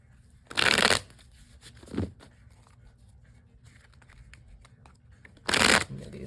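A deck of cards is riffle-shuffled in two quick, crisp bursts several seconds apart, with a softer flutter of cards between them, close and clear against a quiet background.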